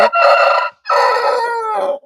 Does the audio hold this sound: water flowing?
no